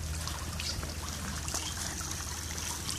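Garden sprinkler spraying water in a steady hiss and patter, faint and continuous, heard up close outdoors.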